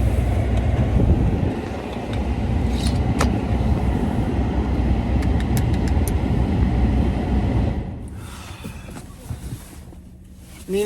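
Inside a moving car, a steady low road rumble and engine hum with a few ticks and clicks, fading quieter toward the end, no voices.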